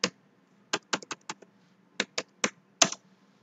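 Keys on a computer keyboard are struck in a quick irregular series of crisp clicks, some in short bursts with brief gaps, close by and with no talking.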